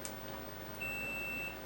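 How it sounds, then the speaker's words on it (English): A multimeter set to continuity test gives a thin, steady high-pitched beep lasting under a second, clear and alone over a quiet background hiss. "I got my multimeter out and I've set it for continuity test"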